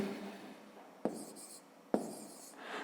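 Pen scratching out numbers by hand on paper during a 5th-grade arithmetic exercise, a soft continuous scribble broken by two sharp taps as the pen lands, close and quiet with no talking.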